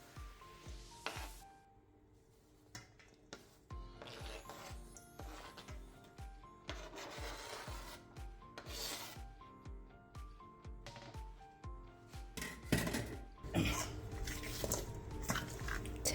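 Seasoning rubbed by hand into raw oxtails, giving quiet wet squishing and slapping with scattered clicks and knocks against a bowl, soft and close with no voices.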